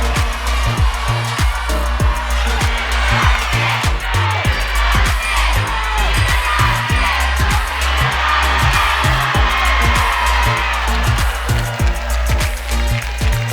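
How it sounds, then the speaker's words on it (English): A crowd gathered for a school district convocation murmurs and whoops in a large venue, a busy wash of voices under a loud, regular thumping beat that pulses steadily throughout. "You can hear the murmur of the crowd and excited anticipation of what's about to happen"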